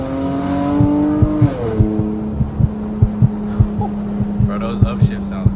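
Chrysler 300 engine humming at steady revs, then a brief rev change as it downshifts through the paddle shifters, with repeated rhythmic thumps and clicks running throughout and a faint voice in the background.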